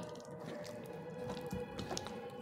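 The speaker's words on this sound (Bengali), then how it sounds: "তো এইভাবে ভালো করে হাত দিয়ে মেখে নিতে হবে, অনেকক্ষণ ধরে মেখে নিতে হবে।" Fritter batter being mixed by hand, faint wet squishing and squelching in a soft, continuous rhythm, heard close up with no talking.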